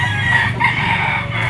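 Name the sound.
yellow-legged straight comb stag rooster crowing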